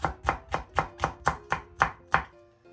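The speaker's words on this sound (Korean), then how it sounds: "청양고추, 홍고추 썰어주세요" Steady knife chopping of green and red chili peppers on a board, eight sharp even strikes in quick rhythm, close and clear with no voices.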